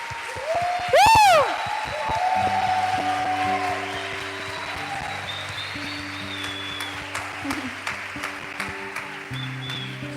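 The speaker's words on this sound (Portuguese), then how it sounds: "adorar e saudar o Senhor com palmas." A church congregation applauds and claps in worship during a family service, the sustained clapping running alongside keyboard tones, with a sharp whistle-like sound near the start.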